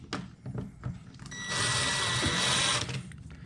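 Power drill on a low setting driving screws into an electrical outlet box, one sustained whirring run of about a second and a half following some handling clatter, close and fairly loud.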